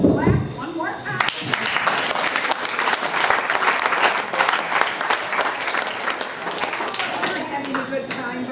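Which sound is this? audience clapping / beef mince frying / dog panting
audience clapping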